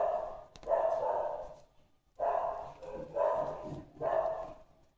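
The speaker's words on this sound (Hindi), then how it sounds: "ये जो डॉगी है ये भौंकना चालू कर देते हैं।" Dog barking outside in a street, several bursts of rough barks with short gaps, moderately loud and somewhat distant, heard indoors during crochet work.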